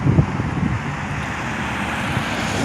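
Outdoor wind buffets the microphone with a steady low rumbling roar and occasional gusty thumps, loud and continuous with no speech.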